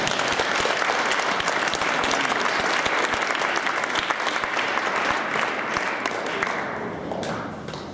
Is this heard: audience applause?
yes